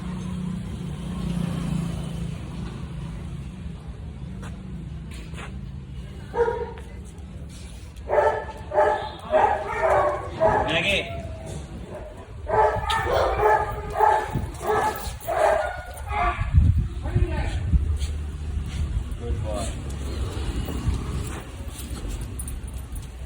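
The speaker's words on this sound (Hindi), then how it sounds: "स्मेल आते ही सारे भौंकने लग गए" Several dogs bark and yip excitedly in overlapping bursts, with vehicle noise and a steady outdoor hum underneath and some voices mixed in.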